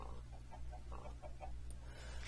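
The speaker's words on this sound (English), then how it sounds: "Chickens seem to be attracted to half blocks." Game chickens clucking in Minecraft on the FTB Hubris modpack, a series of short, soft, evenly spaced clucks over a steady low hum, with no talk.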